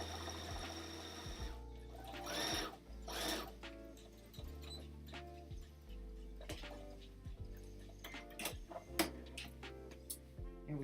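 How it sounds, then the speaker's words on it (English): Sewing machine stitching a bag seam at one centimeter, a quiet close mechanical hum with rapid needle ticking that runs in stretches, broken by small clicks and brief pauses. "So we're going to just sew this again at 1 centimeter."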